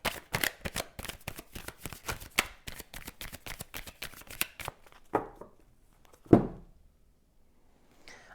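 Tarot cards shuffled by hand for a Gemini reading, a dense run of close, crisp riffling flutters for about five seconds, followed by a few soft thumps as the deck is squared and set down, with no talking.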